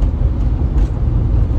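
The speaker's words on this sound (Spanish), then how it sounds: "el tráfico está pesadísimo ahorita" Heavy evening traffic on a busy city boulevard, a steady loud low rumble of car and engine noise without pause, close by and continuous.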